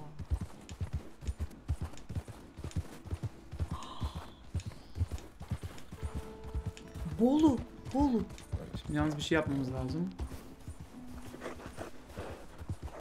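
Horse trotting in a video game, a steady clip-clop of hooves running under the whole stretch while people talk over it and tonal game sounds come and go.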